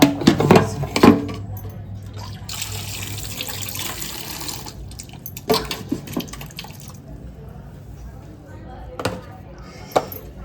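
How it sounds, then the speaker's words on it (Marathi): A kitchen tap runs in a steady rush for a few seconds, with clatter of utensils before and after the flow. "त्याच्यातनं पाणी घेते"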